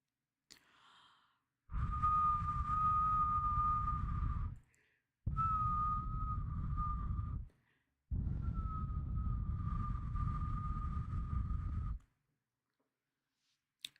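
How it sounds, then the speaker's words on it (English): Three long, steady whistled tones, each held for a few seconds with short pauses between, close and fairly loud with breathy noise beneath. "can whistling sound like the ocean?"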